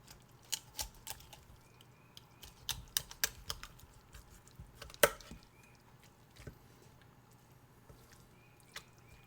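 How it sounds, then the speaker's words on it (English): A pork spine is cut apart for ramen broth, giving quiet, irregular cracks, snips and crunches of bone and cartilage scattered through a short stretch with no talking. "first step is I'm going to cut out the spine"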